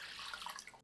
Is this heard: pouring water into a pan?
yes